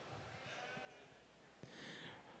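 Sheep bleating in a junior breeding sheep show ring at a state fair, with Merino ram lambs being judged; a couple of short bleats rise under a judge's amplified voice and the hubbub of the arena.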